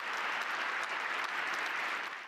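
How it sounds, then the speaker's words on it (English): Politicians at the Munich Security Conference break into applause, a steady, even clapping from a hall audience that carries on for a couple of seconds at moderate distance. "Liberal politicians applauded him at the time"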